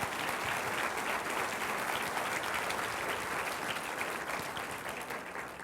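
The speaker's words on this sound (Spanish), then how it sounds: "Dele un aplauso a Jesucristo." A church congregation bursts into sustained applause, a dense, even wash of many hands clapping that holds steady and begins to fade toward the end, with no talk over it.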